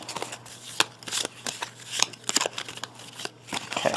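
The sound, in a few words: shuffling a deck of cards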